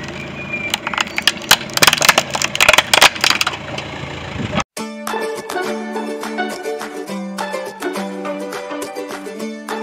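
A toy Ferrari is crushed under a car tire: several seconds of loud cracking and crunching snaps up close, then an abrupt cut to a steadier mechanical clatter and rumble.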